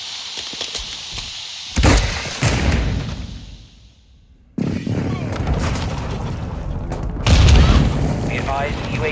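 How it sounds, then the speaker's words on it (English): Friendly airstrike explosions in Modern Warfare 2 multiplayer land as heavy booms, one big blast followed by rumbling debris and a brief lull, then more loud detonations amid battle noise and radio-style callouts. "Friendly airstrike on the way."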